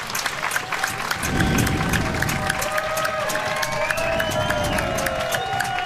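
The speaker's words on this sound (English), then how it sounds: "Boisterous crowd. Trying to will the Anglers to a victory in the bottom of the ninth." A boisterous baseball crowd at a Cape Cod League game cheers and claps steadily in the bottom of the ninth, a loud, continuous roar with whistles and shouts swelling throughout, while an announcer talks over it.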